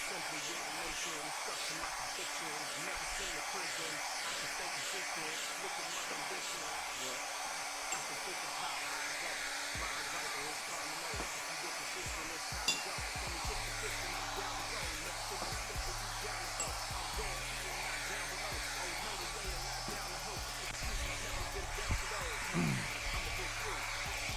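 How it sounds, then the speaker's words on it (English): A hair dryer blow-dries wet paint, a steady, close whooshing roar that runs unbroken from start to end, with a low hum joining it partway through. "Just a little blow dry, not too much."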